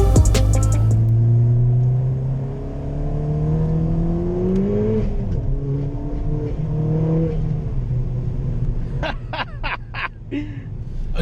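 A 350 hp front-wheel-drive hybrid-turbo Ford Fiesta ST Mk7 driving on greasy, rain-soaked roads, its engine rising and falling through revs with loud sweeping tones, a brief shift dip, then rapid clattering pulses near the end.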